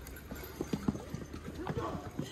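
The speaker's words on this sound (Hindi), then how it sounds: "फिर भी घोड़ा घोड़ा लेके आ रहे हैं यार?" Horse hooves clip-clop on a hill road at Kufri near Shimla in Himachal, a series of uneven knocking steps close by while people talk over them.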